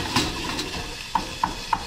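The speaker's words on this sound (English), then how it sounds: "Alright, so we're gonna give this a quick stir." A spoon stirs pasta sauce in a pan with soft scraping and a few light metallic clinks, three distinct taps near the end, over a low background hiss.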